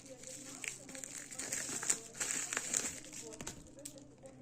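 Plastic wrapping on a small AliExpress parcel holding lip gloss crinkles and rustles as it is torn open, with close, continuous crackling and a few sharper bursts over a few seconds.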